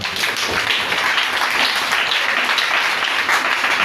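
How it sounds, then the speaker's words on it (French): A church congregation applauds together in steady, dense clapping that carries without pause through the whole stretch, with no speech over it. "Acclame Jésus."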